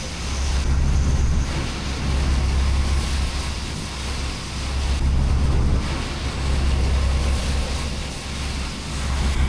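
Steady roar of sea waves and gusting wind, with a boat's low engine hum throughout, on a sea crossing from Banjarmasin to Pegatan in strong southeast wind; loud, continuous and close.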